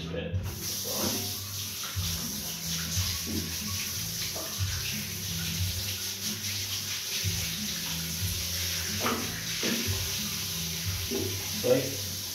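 Beer fermentation equipment being rinsed under a running tap, a steady close wash of water with splashing and clatter, while a person speaks over it.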